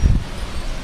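Strong gusting wind from Hurricane Irene, rushing loudly against the microphone with a heavy buffeting burst at the start, then a steady turbulent roar.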